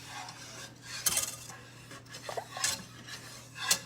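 A utensil scraping and knocking in a hot pan as browning food is stirred, several quick metallic scrapes and clinks in uneven bursts, close and moderately loud, no voices.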